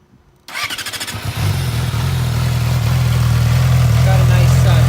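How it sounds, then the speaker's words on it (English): A Yamaha R6 sportbike fitted with a titanium exhaust cranks over and fires up, then settles into a loud, steady idle that holds close by for several seconds. "So let's start up this R6."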